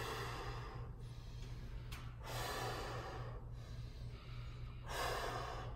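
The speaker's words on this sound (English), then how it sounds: "we want to breathe in and blow out like we're blowing a candle" A person breathes deeply during a warm-up stretch, with several audible inhales followed by forceful blown-out exhales, close and fairly steady over a low background hum.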